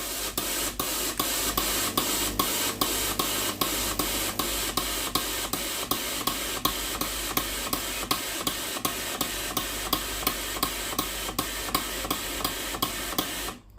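Rapid, regular clicking of a Tefal GV9820 steam iron's solenoid valve repeats steadily for the whole stretch over a constant hiss of escaping steam.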